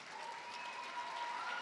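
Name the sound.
audience applause at nursing pinning ceremony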